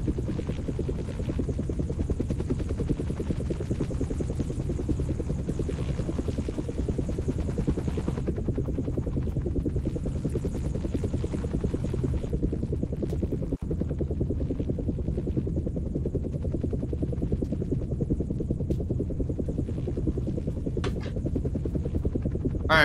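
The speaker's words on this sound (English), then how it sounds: "all pipeline attendees get out when the helicopter lands" Helicopter in flight in a military-style game, a loud continuous rotor throb and engine drone holding steady from start to finish, with no voices.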